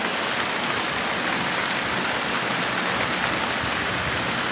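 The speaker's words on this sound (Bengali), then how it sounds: "এই যে প্রচণ্ড বৃষ্টি পড়ছে" Heavy rain pours steadily outdoors, a dense, even hiss of drops with no break and no voices.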